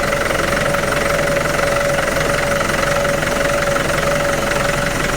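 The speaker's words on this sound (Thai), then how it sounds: "อันนี้ได้ยินแต่เสียงเครื่องแล้ว อันนี้จะได้ยินแต่เสียงเกียร์นะครับ" A motorcycle or small engine idles steadily close by, with a constant mechanical whine from the gearbox riding over a rough, knocking rumble. The sound holds level throughout and no one speaks.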